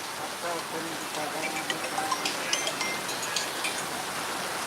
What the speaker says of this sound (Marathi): मोठ्या प्रमाणात ढग फुटीचं दृश्य पाऊस या पिराची कुरोलीमध्ये झालेला आहे